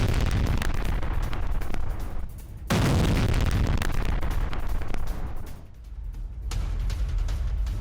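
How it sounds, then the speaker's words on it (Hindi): Missile strikes in northern Israel near the Lebanon border, from Hezbollah attacks: loud, rumbling blasts roll into a sustained roar with a couple of brief lulls, captured in news footage. "लेबनान से सटे सूला इलाके में सुने गए हैं धमाके।"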